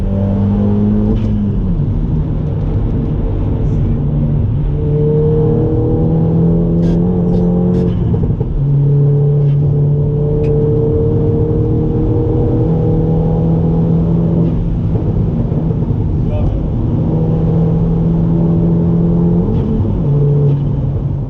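A fast van drives and repeatedly accelerates, its engine revving up in rising pitch sweeps then easing off between gear changes, loud and close throughout with a rumbling undertone.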